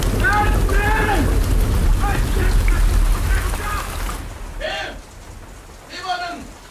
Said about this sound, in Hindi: अरे बाहर आओ, बारिश हो रही है